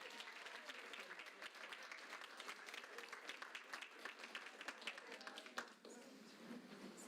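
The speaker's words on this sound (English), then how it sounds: "Now give a round of applause to all the leaders." An audience at a university Doctor of Physical Therapy pinning ceremony applauds with continuous, fairly quiet clapping that tapers slightly toward the end.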